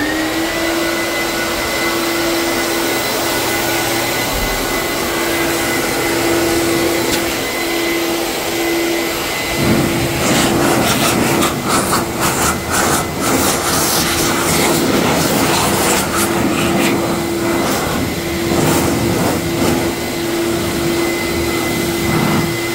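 A self-service laundry dryer runs with a loud, continuous drone and a fixed whine, its tumbling turning rougher and more clattery partway through, with no talking.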